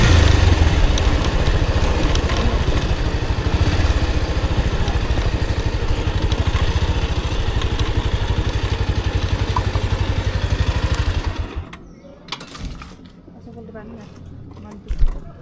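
A motorcycle engine runs steadily and loudly on a ride to Resunga Park, with a constant rumble and rushing wind for about eleven seconds before it drops away to quieter, uneven background noise.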